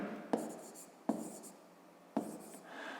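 Pen or pencil writing a maths solution on paper, three short scratchy strokes each starting with a sharp tap, faint and close, in a quiet room.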